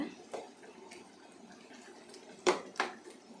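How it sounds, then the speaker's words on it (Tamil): A greens stir-fry with tomato bajji being stirred in a pan, giving a few faint scrapes and two sharper metallic clinks of a utensil against the pan in a quiet kitchen. "இப்போ ஒரு வாட்டி நம்ம கலக்கி விட்டுக்கலாங்க"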